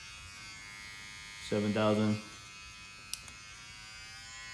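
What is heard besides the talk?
VGR hair clipper motor running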